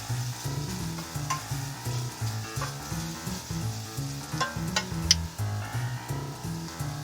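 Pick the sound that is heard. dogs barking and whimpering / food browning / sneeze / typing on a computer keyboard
food browning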